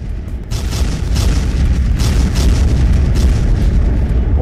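A deep, loud explosion from a naval battle between the Ottoman and Venetian fleets swells after half a second into a sustained, rolling rumble that lasts for several seconds with no voices.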